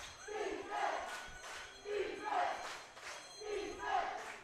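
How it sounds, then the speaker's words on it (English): Valley Huskers home football crowd at a game against the Kamloops Broncos, chanting and roaring in repeated swelling waves behind the defense, heard from a distance in an outdoor stadium. "you can hear this Huskers crowd trying to get behind their defense right now"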